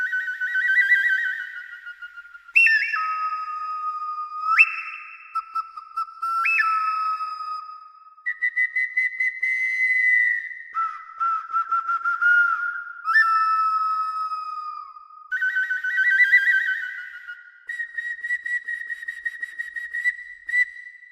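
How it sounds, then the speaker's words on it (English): Synthesized bird whistle patch number 3 from the Quetzal sample library: a series of clean, bright whistled tones stepping and sliding between pitches, some short chirping bursts, close and clear with no voices. "Bird whistles number 3."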